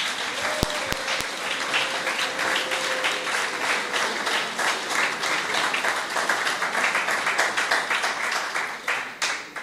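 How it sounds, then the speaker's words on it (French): Sustained applause from an awards-ceremony audience, dense and loud clapping that continues steadily throughout, with a short tone and a few sharp knocks near the start. "on peut l'applaudir, il le mérite"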